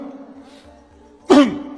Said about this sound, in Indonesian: Bagaimana cara berdehem yang benar?